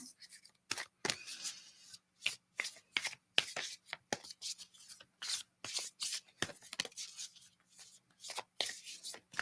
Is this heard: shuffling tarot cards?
yes